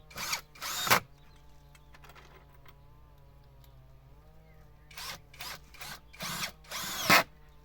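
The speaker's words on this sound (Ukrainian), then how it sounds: "і починаємо прикручувати" A power drill drives screws into the boards of a homemade wooden garden table, with a few short loud whirring bursts at the start and end separated by a long quiet stretch of low background hum.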